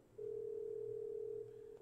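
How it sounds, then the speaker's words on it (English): A steady telephone dial tone hums alone, clear and constant, cutting off abruptly after about a second and a half. "now everybody's hearing the dial tone"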